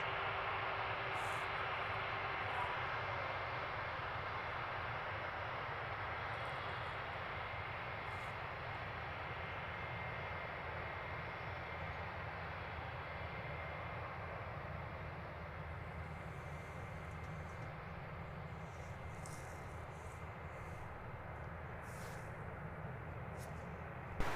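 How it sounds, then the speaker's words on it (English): A Wizz Air Airbus A321-200 taxiing for departure at London Luton Airport, a steady, even jet engine roar that holds at a constant level from a moderate distance the whole way through. "Currently looking at Wizz Air flight 6002. This one taxiing for departure to Rome."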